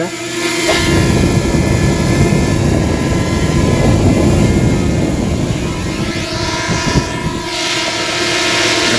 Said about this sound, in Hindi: ऊपर ड्रोन उड़ी